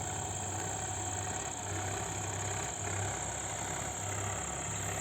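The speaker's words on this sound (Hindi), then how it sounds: "इस प्रकार की रात को भी ट्रैक्टर चल रहे हैं और बुआई कर रहे हैं" Tractors run through the night sowing urad, moong and oilseed crops in farm fields, giving a steady, even engine drone with a low idling throb that holds at a moderate distance throughout.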